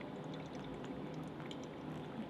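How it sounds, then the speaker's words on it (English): Hot water is poured slowly in a spiral over ground coffee in a pour-over brewer, a continuous soft trickling stream, close and fairly quiet. "My personal preference on how I pour the water is I kind of go in a spiral."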